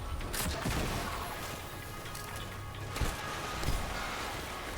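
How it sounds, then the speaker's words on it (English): A video game weapon fires and its projectile explodes on the ground, giving a few sharp, muffled bursts and thumps over a low rumbling background, fairly quiet and without talk. "you can see it breaks on, explodes on the ground pretty soon after you fire it"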